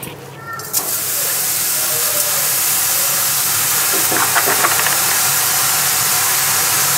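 Pumpkin with jaggery cooking in a kadhai, a loud continuous steamy hiss and sizzle heard close up, with a few brief clatters of a spoon against the pan partway through.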